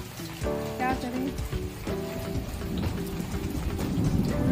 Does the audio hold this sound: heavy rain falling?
yes